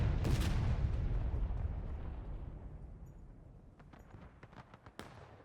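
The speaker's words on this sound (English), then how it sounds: "we saw the opening salvo there of CSA artillery" Cannon salvo from CSA artillery in a Civil War battle game: a loud, booming opening volley that rolls and fades over several seconds, followed by scattered fainter distant shots and crackles.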